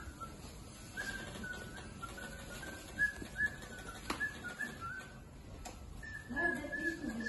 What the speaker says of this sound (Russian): можно понаблюдать за работой механических поющих птиц.